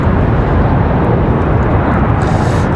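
A Republic Airways airliner at Raleigh Durham International Airport, a loud, close, continuous jet roar filling the whole clip with no voices.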